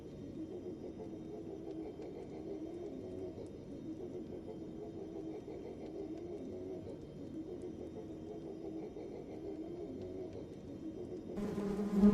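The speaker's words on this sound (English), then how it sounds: "Not the bees again." Steady insect-like buzzing drone, as of a swarm of bees, plays as background game audio in a Convergence 3.0 playthrough, continuous and moderately loud throughout with a brief swell of broader noise at the end.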